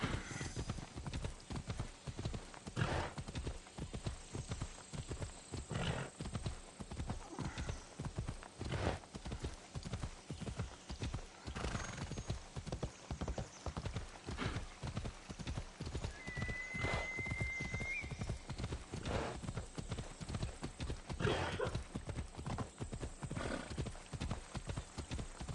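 Horse hooves clip-clop in a steady, even rhythm through the whole stretch while riding in the video game AC Odyssey, with a brief whinny partway through and faint game ambience behind.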